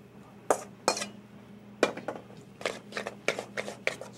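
Kona shrimp mixture being combined in a bowl, with a utensil clinking and scraping against the bowl in sharp, irregular knocks that quicken toward the end, close and clear with no talking.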